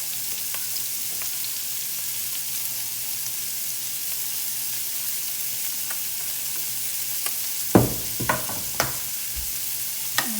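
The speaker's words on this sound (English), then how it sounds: "Add onion and follow the garlic." Onion and garlic frying in a pan, for spam fried rice, make a steady, moderate sizzle, with a few sharp utensil scrapes and clacks near the end.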